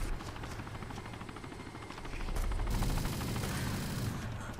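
Gunfire in a survival shooter game set in Chernarus rattles as dense continuous bursts under a throbbing helicopter, loud and busy throughout and growing heavier midway.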